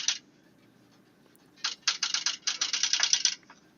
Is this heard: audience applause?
no